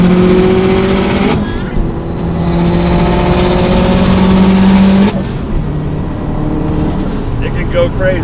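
A 600hp Subaru STI engine revs hard and builds boost, a loud continuous drone with rising pitch that drops sharply at a gear change before climbing again, with a brief lull in between.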